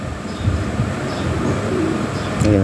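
Breeding pair of European Lahori Sirazi pigeons cooing in their own cage, soft repeated low coos over a steady background hum, with a brief brighter burst near the end.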